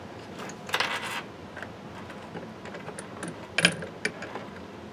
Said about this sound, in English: unlock your tone arm, move it to the inside to clear this area, and then you can literally lift it and just swing it off